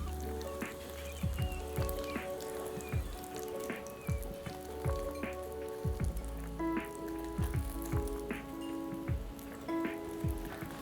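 Fish cakes sizzle and spit in a hot frying pan as they are rolled around to seal their edges, with steady crackling frying noise and repeated soft knocks and scrapes from the pan.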